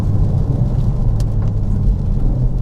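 A tuned Mk4 Ford Focus ST rated at 330 bhp drones steadily under load with a deep, loud engine rumble held in gear on a road, heard from inside the car with no talk.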